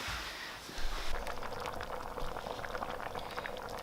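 A hot pot simmers with a soft, continuous bubbling hiss, faint and steady throughout, with a slight swell early on.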